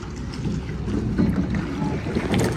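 A rowing boat glides along a canal between Bruges and Ghent, giving a soft, continuous wash of water and wind close by with no talk over it.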